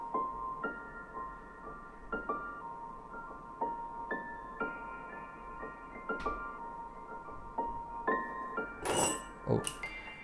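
A halftime trap-style melody drenched in reverb and delay, built from bell-like plucked tones in a slow, spacious pattern, with a brighter burst of shimmering effects near the end and no voices.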